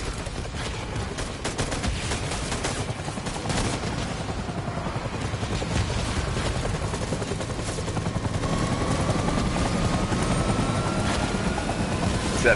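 Medevac helicopter in the video game Death Stranding, its steady rotor thrum running loud and continuous amid rumbling game noise, with a rising whine joining in toward the end.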